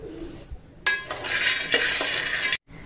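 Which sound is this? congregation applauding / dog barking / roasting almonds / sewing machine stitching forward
roasting almonds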